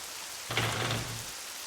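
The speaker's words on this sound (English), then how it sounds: "I like how the rain is just as loud." Rain falls in Nancy Drew: The White Wolf of Icicle Creek, a brief louder burst of patter swelling out of a soft background hiss and fading again within a second.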